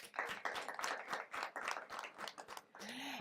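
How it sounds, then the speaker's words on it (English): An audience claps for guest Shanti Dives at a panel event, a small group producing uneven, separate claps in bursts, fairly faint, with a brief voice at the end. "give a round of applause for this one right here"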